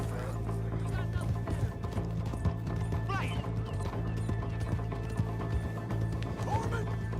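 Horse hooves in Red Dead Redemption 2, a busy clatter of hoofbeats with creaking tack and a brief whinny, mixed under a steady low hum with someone talking.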